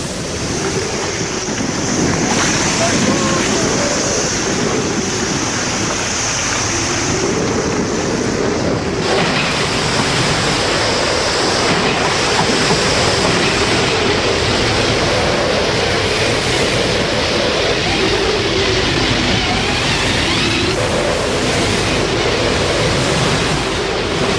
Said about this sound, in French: Partout, des vagues de 10 ou 15 mètres de haut